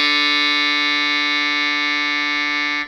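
A long sustained note from a Yamaha YDS150 digital saxophone, reedy and loud, carries an electronic vibrato and stays even for nearly three seconds before stopping abruptly.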